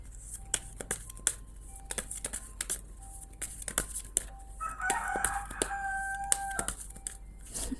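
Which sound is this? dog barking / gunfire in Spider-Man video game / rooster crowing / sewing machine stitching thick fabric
rooster crowing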